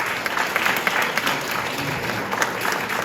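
An audience at a church gathering in Annemasse near Geneva applauds for a guest giving testimony, a continuous, even wash of clapping from many people with no speech on top.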